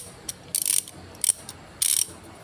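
A SATA 1/2-inch ratchet wrench with 56 teeth clicks in three short, bright bursts of rapid ratcheting, close and fairly loud, with quiet gaps between them.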